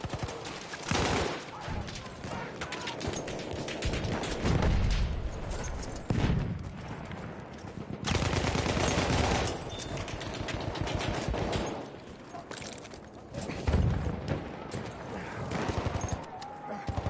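Battlefield 1 gunfire on PS4 rattles in dense, loud bursts of rapid shots, with brief quieter lulls between volleys and clusters of heavy fire throughout.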